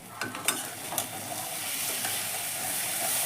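Katla fish curry masala being stirred in a kadai as salt is mixed in, with a few sharp spatula scrapes early on over a steady, close oil sizzle that continues alone.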